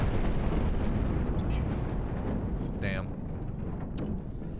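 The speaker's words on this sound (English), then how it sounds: "Try using the rockets on them." Explosions from rockets fired at ground targets in the video game Battlefield 1, a dense rumbling roar of blasts with a sharp burst near the end, under a player's talk.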